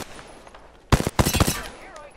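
Gunfire in Apex Legends rattles out in a quick burst of several sharp shots, followed by a second cluster of rapid shots, loud against a quiet background.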